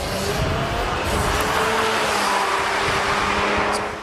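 An Audi R18 race car runs during a test at Sebring, its engine a steady droning hum that swells and holds as it drives past at moderate distance, with faint tire noise.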